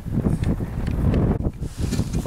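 Strong wind gusts in uneven, rumbling surges across the microphone while skiing over the frozen Kolyanoe-Orekhovoe lake, loud and close with no talking.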